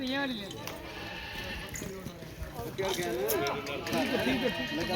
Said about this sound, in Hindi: ये बकरा है, ये बकरी है, ये बड़ी बड़ी है।